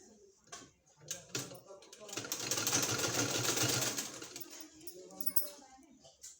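A sewing machine stitches a fabric sleeve in a steady mechanical whir that swells in the middle, under someone talking nearby.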